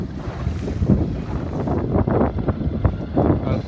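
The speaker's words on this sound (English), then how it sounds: "The wind is built 2 or 3 knots" Steady wind gusts buffet the microphone aboard a 29er sailing dinghy during a race, with a dense low roar and rushing water from the hull throughout.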